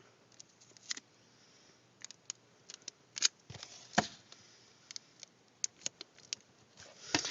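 Scissors trimming surplus tape and plastic on a protective game-cartridge case, a few faint, close, sparse snips and clicks over a quiet background.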